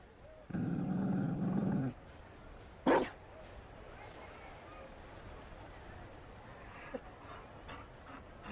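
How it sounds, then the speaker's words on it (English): A Mabari war dog in the Dragon Age: Inquisition video game gives a loud growling bark for about a second, then a single sharp yip, over a steady low ambient background. "You found a dog?"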